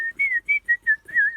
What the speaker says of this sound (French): on sifflote pour se rassurer, pour éloigner les monstres